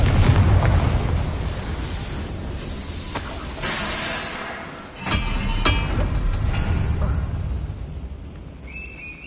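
Confringo blasting spell in Hogwarts Legacy, a string of loud booming blasts and sharp cracks over a dense rumble, with a short dip in the middle before the noise rises again, close and forceful, with no talking.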